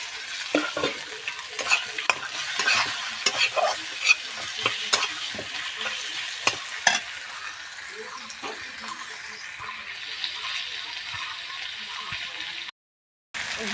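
Chopped tomatoes, four of them, drop into a hot pan and fry with a steady sizzle, broken by repeated sharp scrapes and knocks of stirring, up close with no talking.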